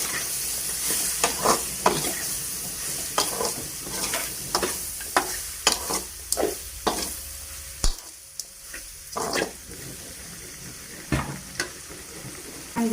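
Boiled broad beans tipped into a sizzling dry fish curry and stirred, a steady hot hiss punctuated by repeated scraping strokes of a spoon against the pan at an uneven rhythm.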